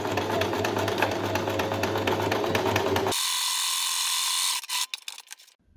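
Sewing machine running a straight stitch about 1 cm from the edge of a fabric seam, a steady fast rhythmic clatter close by for several seconds, then a lighter high whir and a few clicks as it stops.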